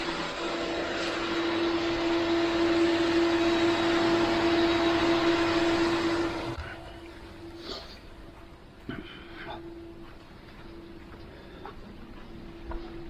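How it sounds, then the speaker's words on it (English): Machinery in a sprinkler system pump room gives a loud, steady mechanical drone with a strong hum. After about six seconds it drops to a quieter, lower hum, broken by a few faint clunks and taps. "This is the pump room."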